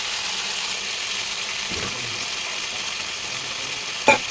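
Spice paste sizzles steadily in a pan after a splash of water is added, a continuous hissing fry with a faint clink of utensil near the end.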